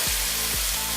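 Crispy pork stir-fries with holy basil in a hot pan, giving a dense, even sizzle and hiss with a couple of soft low thumps from tossing.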